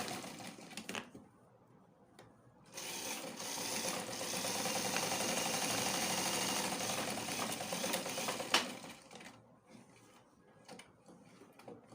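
A sewing machine runs in a sustained burst of rapid mechanical stitching while joining trouser panels for palazzo pants, starting after a short pause and stopping abruptly, with a few quiet handling clicks before and after.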